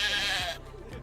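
A pet sheep named Bob, from a Drake & Josh episode, gives a short, loud, wavering bleat that fades into softer, lower noise, with no talking.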